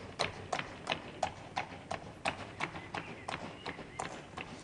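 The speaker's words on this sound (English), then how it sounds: "At the trot, we're looking for a level horse" A horse trotting on a hard surface: steady two-beat hoof strikes, crisp and evenly spaced, moving at a moderate distance, with faint background voices.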